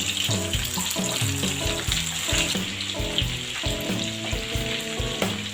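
Meatballs sizzle and crackle in a hot pan, a constant bright hiss with bursts of popping, and music playing throughout.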